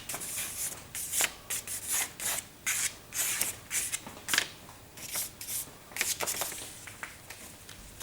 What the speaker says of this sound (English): So instead of using scissors, I prefer to tear.